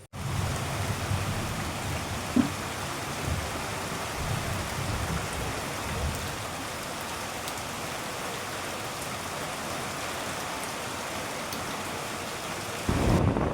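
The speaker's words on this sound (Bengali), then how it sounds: "আর বৃষ্টি হচ্ছে বাইরে, তোমরা তো দেখতেই পেলে।" Rain falls steadily outdoors, a soft continuous hiss with low rumbling underneath and a few faint knocks, fairly distant and even throughout.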